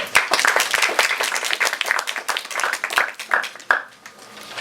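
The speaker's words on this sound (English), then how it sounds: "please give our panelists a round of applause." An audience claps for the panelists at a storytelling talk, a steady burst of many hands lasting a few seconds, close and fairly loud, with no talking over it.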